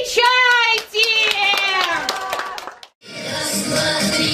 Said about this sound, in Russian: Хлопайте и подпевайте!